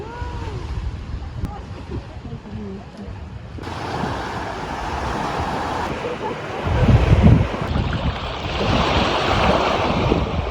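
Ocean waves surge and break nearby on a Guadeloupe shore amid gusty wind noise, with a louder crash midway and a steady roar of surf throughout.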